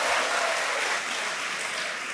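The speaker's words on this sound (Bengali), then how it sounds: "ওর জন্য একটা করতালি দাও।" A group of young students applaud a classmate, a short burst of brisk, dense clapping that stays loud and even throughout.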